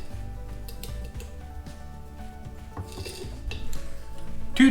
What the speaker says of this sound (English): So I guess I'll add that now, and then I'll give that a good mix